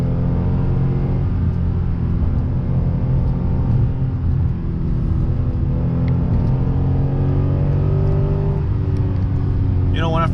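A Lexus RC F engine pulls steadily in second gear, a loud continuous low rumble and rising drone heard from inside the car, with no talk.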